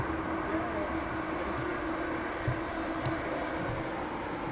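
American Airlines airplane at Dublin Airport, a continuous dense engine rumble and roar filling the whole stretch at steady loudness, with a faint low hum running underneath.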